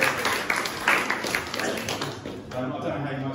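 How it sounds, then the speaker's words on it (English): A church congregation applauds, a dense wash of clapping that swells and fades over a few seconds while voices murmur through it. "We give everyone a round of applause."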